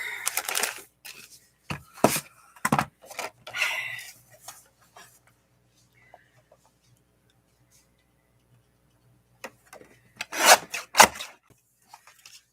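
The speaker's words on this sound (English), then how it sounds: "I'm going to cut a bunch of 1 1/4 inch strips of 110-pound cardstock" Strips of heavy 110-pound cardstock are cut in a few quick, sharp rasping strokes, grouped into bursts. Long near-silent gaps separate the cuts before another cluster of cutting at the end.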